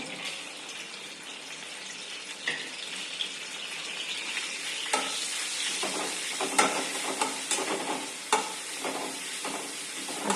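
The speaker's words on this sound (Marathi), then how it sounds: "तेल गरम झालं की त्याच्यात आलं आणि मिरचीचा ठेचा मी एकत्र केलेला आहे तो घालणार आहे" Ginger and green chili paste frying in a spoonful of hot oil makes a soft, continuous sizzle with scattered pops and stirring clicks, heard alone at moderate distance.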